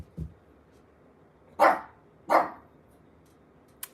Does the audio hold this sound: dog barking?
yes